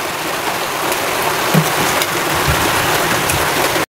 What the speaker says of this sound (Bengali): বৃষ্টি আসতেছে, তারপর হাঁসের মাংস রান্না করব।